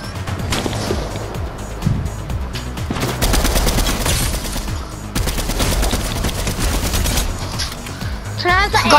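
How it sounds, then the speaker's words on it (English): Gunfire in a Fortnite-style battle royale video game, with loud sustained volleys of rapid shots repeating through the whole stretch, while players chatter over it. "Oh, that is where he's shooting from."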